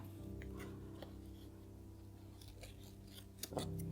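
Scissors snip and poke holes in paper at close range, giving a few soft ticking cuts and a sharper crunch near the end over a steady low hum.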